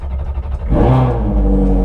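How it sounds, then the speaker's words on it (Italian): A Ferrari 430 Scuderia's engine fires up after a brief starter whir, catching with a loud rising rev that settles into a steady, deep idle close by. "adesso premiamo il pulsante sul volante per accendere"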